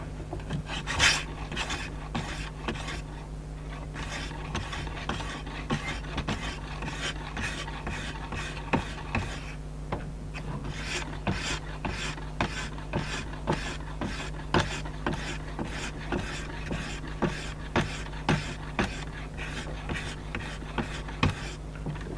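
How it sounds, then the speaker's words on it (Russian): A knife blade is sharpened on 500-grit sandpaper with steady, rhythmic rasping strokes, close and even, repeating dozens of times with no talking. "Все, 500 шкурочка хорошо точит."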